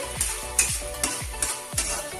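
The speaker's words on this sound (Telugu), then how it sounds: "అది కలిపి ఇందులో వేసేసి" Steamed kanda bachali (elephant-foot yam) greens stirred into a sizzling tempering with curry leaves. About five rhythmic stirring scrapes sound close up over a continuous frying sizzle, with no talk.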